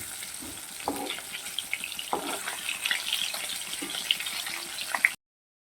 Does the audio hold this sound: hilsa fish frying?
yes